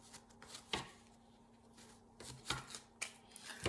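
Tarot cards being handled and laid out on a table, giving soft papery shuffles and several sharp slaps as cards land, spaced irregularly and fairly faint, with no talking.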